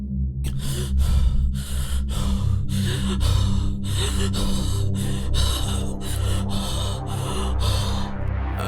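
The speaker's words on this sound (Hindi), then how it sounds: "वो लगभग 16 या 17 साल की लग रही थी और लगातार हाँफ रही थी, मानो उसे सांस लेने में तकलीफ सी हो रही हो।" A teenage girl pants and gasps for breath, a rapid series of sharp, close breaths repeating steadily over a low, droning background.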